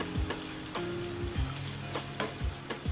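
Kare-kare sauce with kare-kare mix is stirred in a pan for kare-kare con bagnet, a utensil scraping in several slow strokes over a steady close sizzle.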